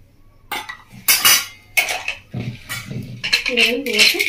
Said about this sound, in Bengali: এবার একটু খুন্তি দিয়ে নাড়িয়ে নিচ্ছি